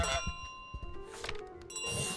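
A small bell rings with bright, sustained metallic tones in Untitled Goose Game, sounding a couple of times amid clattering game noises and shuffling.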